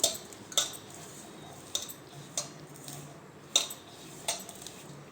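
A bitter gourd chutney being mixed with lemon juice, with sharp intermittent clinks of a spoon against a bowl over a faint background hum, roughly once every half second to second.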